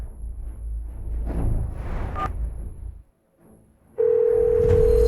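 A steady telephone tone starts abruptly after a short pause, holding one pitch continuously, preceded by muffled background noise.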